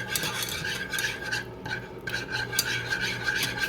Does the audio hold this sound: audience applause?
no